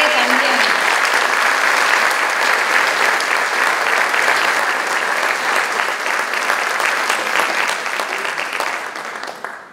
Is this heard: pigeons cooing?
no